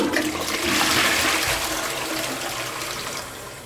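A toilet flushes loudly and close by, water rushing from the tank down into the bowl in one continuous whoosh that gradually eases toward the end.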